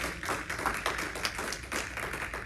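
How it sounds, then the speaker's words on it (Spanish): Church congregation applauding for Jesus during a Spanish-language service, a steady dense patter of many hands clapping at moderate distance, continuous and even throughout with no voices over it. "Hay alguien que puede celebrar con un fuerte aplauso a Jesús."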